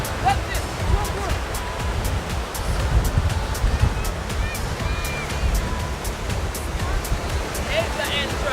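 Sea waves wash steadily onto the shore at Corralejo in the Canary Islands, a continuous close surf roar with some wind noise across the microphone.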